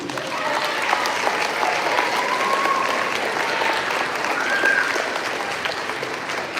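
An elementary school audience applauds a visiting Army veteran: steady, dense clapping from a crowd indoors, lasting throughout at an even, moderately loud level, with no break.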